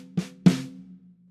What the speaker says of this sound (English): So 2 black spots, we have 4 strokes, so it's the first and the last one accented.